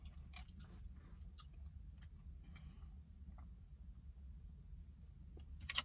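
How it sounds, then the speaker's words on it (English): Quiet, close chewing of stuffed bell pepper and rice during a mukbang meal, with soft crunchy bites and small mouth clicks scattered over a low steady background hum, and no talking. "Once I finish chewing my food"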